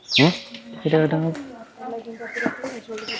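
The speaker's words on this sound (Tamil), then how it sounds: "நிறைய நிறைய பறவைகள் இருக்கு." Birds chirp and call in short bursts under steady talking at Hanthana Bird Park, with a few brighter tweets standing out near the start and middle.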